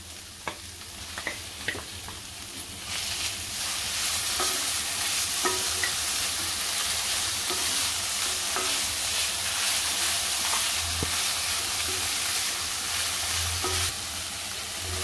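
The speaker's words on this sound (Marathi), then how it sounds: "आता आपले हे कांदा आलं लसूण मिरची पेस्ट परतते" Onion, ginger, garlic and chili paste sautéing in a pan for a Maharashtrian pithla, a steady close sizzle that swells after a few seconds, with occasional scrapes and knocks of stirring and no talk.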